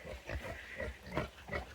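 A big pig with mange grunts in a short series of low, rough snorts and oinks, close by and moderately loud, with brief pauses between them.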